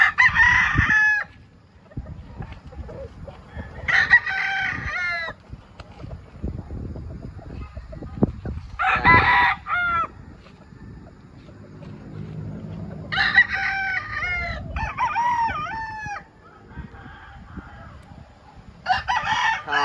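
A rooster crows several times at intervals, loud and close, with quieter clucking and faint background noise between calls.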